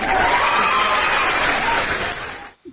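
A burst of applause from a small crowd, dense clapping that fades out and stops abruptly.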